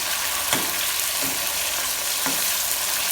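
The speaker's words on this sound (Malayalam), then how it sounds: "ചിക്കൻ നല്ലോണം പൊരിയൊന്നും വേണ്ട കേട്ടോ ജസ്റ്റ് കുറച്ച് നേരം പൊരിഞ്ഞാൽ മതി" Continuous close sizzling of chicken frying briefly in a pan, with a few soft stirring scrapes.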